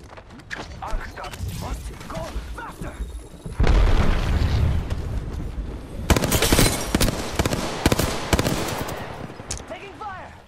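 Gunfire and explosions in the video game Apex Legends, rapid automatic bursts, a heavy boom near the middle and further volleys, with voices talking over the fight.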